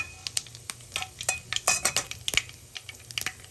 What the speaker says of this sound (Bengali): এবার একটুখানি হালকা ভেজে নেব